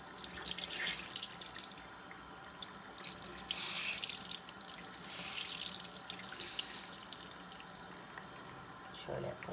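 An old makeup foundation sponge is rinsed and squeezed under a running tap, with a continuous close rush of water and splashing that swells and fades as it is worked, with a faint voice in the background.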